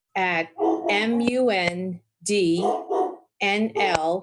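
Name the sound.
dog barking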